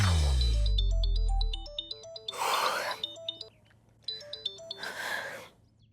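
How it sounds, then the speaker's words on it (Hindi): A mobile phone ringtone for an incoming call plays a bright repeating melodic tune in two bursts, with breathy gasps and sighs between and under the notes. "अर्जुन का फोन है, क्या करूं यार"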